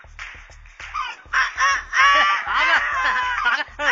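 A person imitates a rooster crowing, producing a series of loud, strained, warbling vocal calls that rise and fall over a few seconds.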